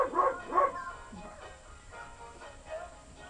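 A puppy gives two quick close barks near the start, followed by softer whimpering yips that fade out.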